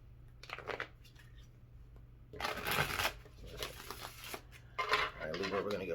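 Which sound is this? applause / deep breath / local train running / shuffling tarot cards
shuffling tarot cards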